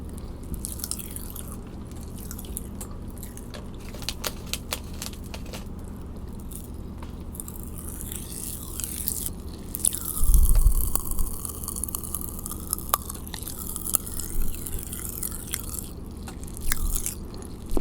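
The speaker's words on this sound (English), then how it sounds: "Trying to leave my mouth wide open for you to hear the popping" Tiny crackling pops and sharp clicks of Pop Rocks candy fizz close up inside a mouth, scattered and irregular, with a brief soft rumble midway.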